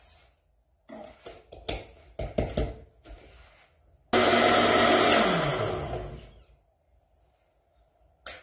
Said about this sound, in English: We add in the rest of the water,